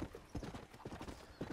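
Horse in the Red Dead Redemption video game, its hooves clip-clopping in a quick, uneven galloping rhythm, faint and close, with no clear neigh.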